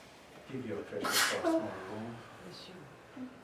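A single sharp sneeze bursts out in the middle of soft spoken words, loud and close.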